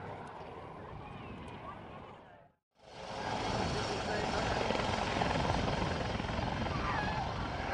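A Westland Lynx helicopter flying at the Dunsfold airshow sends out a loud, continuous rotor and engine roar, broken by a brief cut to silence before the roar resumes, louder and fuller, with a commentator's voice heard over it.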